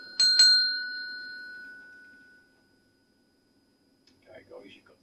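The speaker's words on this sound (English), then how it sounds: "And there's a bell there as well." A small bell in a pub gives two quick bright rings that hang and fade over about two seconds, followed after a pause by faint indistinct voices.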